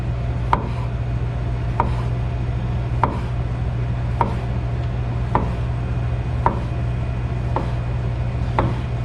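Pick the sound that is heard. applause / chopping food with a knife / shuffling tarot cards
chopping food with a knife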